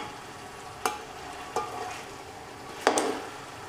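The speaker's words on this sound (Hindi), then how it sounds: "तो इसकी अच्छी तरह से हम बुनाई कर लेंगे।" Chicken biryani masala being stir-fried in a pot, with a soft continuous sizzle and three sharper scrapes of a spoon against the pot, the last one the loudest.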